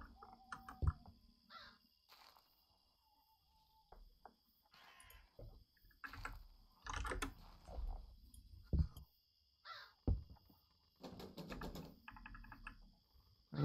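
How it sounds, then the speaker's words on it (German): Crows caw in short harsh bursts within the horror video game Sign of Silence, scattered among quiet stretches with clicking keyboard typing close by. "die Krähen, die sind fies"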